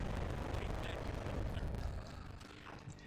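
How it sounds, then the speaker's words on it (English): Bombs being dropped in the video game Rampage: Total Destruction, a dense continuous rumble of overlapping explosions and low booms that eases off slightly toward the end. "this is the sound of them dropping bombs"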